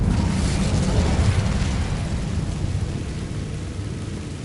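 An Incendio fire spell cast in Hogwarts Legacy produces a loud, dense roaring rush of flame that starts strongly and slowly eases off over several seconds, with no voices.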